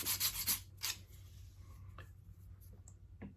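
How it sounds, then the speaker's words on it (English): A small part for a Pilot RC Slick 84-inch model airplane build is rubbed a few times on a sanding block to dull its shiny surface, giving several quick, close scratchy strokes followed by quieter handling sounds. "you put that on your sanding block, and you just rub it a few times, just to again take the shininess away"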